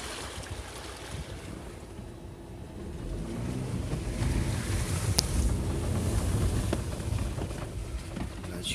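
A VW Tiguan 2.0 diesel 4Motion on standard road tires crawls slowly off-road, giving a steady low engine rumble mixed with rustling and wind buffeting on the microphone, no speech over it.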